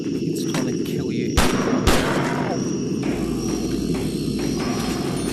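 Gunfire in the video game Black Ops 2, two sharp booming shots over a constant dense rumble of background game noise, with no talking.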